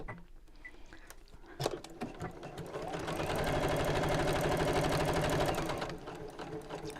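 A sewing machine stitches a simple fabric purse, starting with a few clicks before running in a steady rapid buzz for a couple of seconds, then slowing and stopping.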